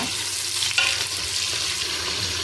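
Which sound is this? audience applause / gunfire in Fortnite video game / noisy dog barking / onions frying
onions frying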